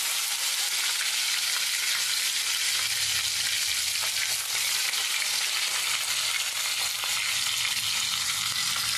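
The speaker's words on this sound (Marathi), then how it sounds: "लसूण आपला चांगला लाल झालेला आहे आणि मिरची पण तळून झालेली आहे" Garlic and green chilies frying in hot oil for a fenugreek dish, a loud dense sizzle that hisses steadily throughout with faint stirring underneath.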